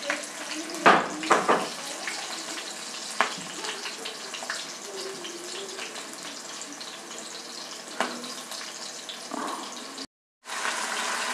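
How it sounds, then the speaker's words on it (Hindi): Spices tempering in hot mustard oil sizzle with a steady crackling hiss, broken by a few sharp clatters of stirring, heard close. "तड़का सरसों के तेल में"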